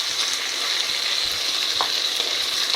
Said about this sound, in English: Now we add chopped but blended tomatoes.